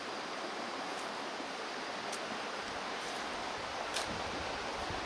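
The San Gabriel River in Azusa, California rushes steadily, a constant broadband wash of flowing water, close and uniform throughout with no voices.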